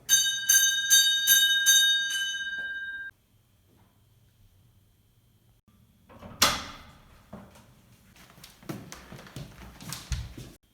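A hand-rung school bell rings rapidly for about three seconds, then silence, followed by scattered clattering and shuffling noises nearby.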